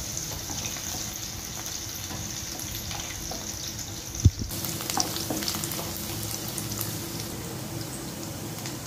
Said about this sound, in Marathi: आता तेल व्यवस्थित तापल्यावर आपण बारीक चिरलेली लसूण आणि किसलेलं आलं घालणार आहोत आणि अर्धा मिनिट परतून घेणार आहोत